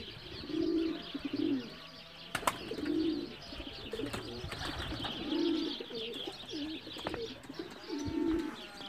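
Male racing pigeons coo outdoors in a steady repeating pattern of soft low phrases about once a second, close and clear, with occasional chirps and a faint brief flutter.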